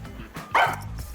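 A dog barks once, sharp and close, in the video game Master Detective Archives: Rain Code, over a quiet background bed.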